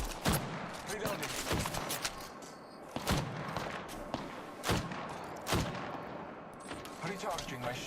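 Gunfire in an Apex Legends battle royale match, sharp repeated shots and bursts landing every second or so over a dense, busy game background.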